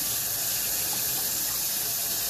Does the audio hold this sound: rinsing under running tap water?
yes